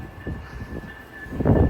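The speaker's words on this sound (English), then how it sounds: "This is Amtrak 747 Capital Corner train going to San Jose Deardown Station." An Amtrak Capitol Corridor passenger train arrives at a station, its rumbling wheels and engine drone rising in loudness over a steady high whine, heard close with no voices.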